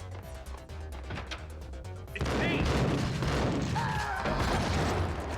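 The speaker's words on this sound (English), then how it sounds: "that was another grenade thrown" In Max Payne, a grenade explosion erupts abruptly midway, a loud crashing blast with debris and gunfire following, after a quieter stretch of rhythmic music and a voice.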